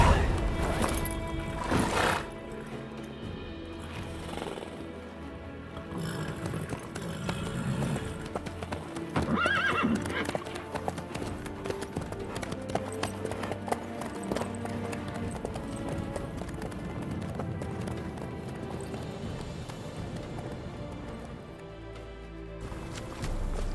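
Horse hooves clip-clop steadily as a horse is ridden at pace in The Witcher 3: Wild Hunt, with occasional whinnies and snorts, close and continuous, and bits of talk over the hoofbeats.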